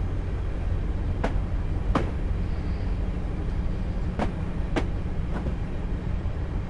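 Video-game train rolling across a bridge toward a pier on the Isle of Wight in Train Simulator 2013, a steady loud rumble with a few sharp clicks from the track at irregular intervals.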